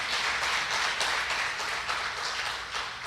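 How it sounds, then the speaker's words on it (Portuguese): A church congregation applauding during a worship service, a steady, moderately quiet patter of many hands clapping that runs the full length without voices. "Você pode aplaudir o Senhor?"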